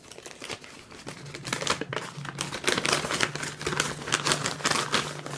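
Tape being peeled and wrapping paper torn from a birthday present, close crinkling and ripping in irregular bursts with short pauses, no voices.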